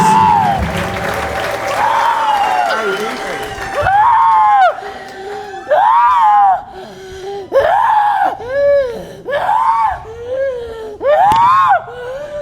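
At an Amharic-language deliverance church service, a congregation applauds in glory to God, the clapping mixed with loud, rising and falling ululating cries and shouts that come in repeated bursts.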